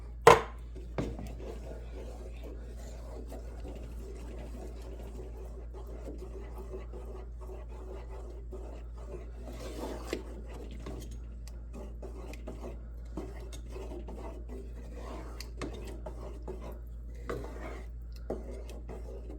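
A utensil stirs ingredients into a pot of chicken parm sauce, giving soft scraping and clinking strokes with a few sharper knocks against the pot.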